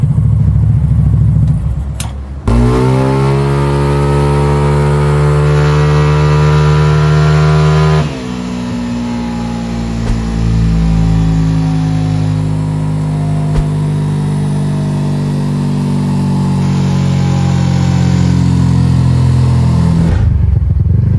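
A motorcycle engine on a dyno climbs steadily in pitch under load, loud and sustained, drops briefly, then winds up again for a long pull before cutting off.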